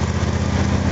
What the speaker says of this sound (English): Of course, you see, that's a lawnmower.